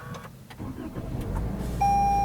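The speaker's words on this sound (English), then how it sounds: "So you just leave the key in your pocket, hit the engine start button," A 2019 Toyota Corolla Hatchback starts by push button: a short cranking rumble catches and settles into a steady idle with a faint whine, heard from inside the car without talking.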